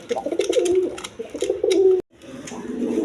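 Racing pigeons cooing at a pigeon farm, several close, full throaty coos in quick succession, a brief silent gap, then cooing resumes.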